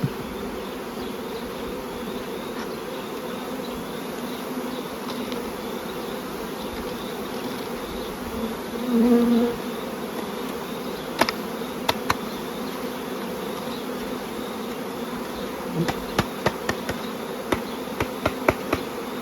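Honey bees shaken into a queen rearing starter colony hum as a steady, dense buzzing swarm, with a brief louder swell midway and scattered light knocks and taps toward the end.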